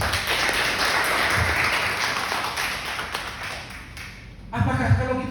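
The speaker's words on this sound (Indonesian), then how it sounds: "Tepuk tangan buat Tuhan." A church congregation claps for God during a sermon by a pastor, a dense, fairly loud round of clapping that fades slightly before a voice cuts in near the end.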